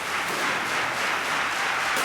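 Dense, steady applause and cheering fill a large esports tournament arena at DreamHack Winter 2014, a loud, continuous wash of clapping from a big crowd with no break.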